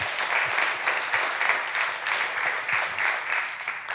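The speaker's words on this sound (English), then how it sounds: "Let's give these folks a round of applause" An audience applauds award recipients at an alumni award ceremony, with continuous even clapping filling the room and nobody speaking.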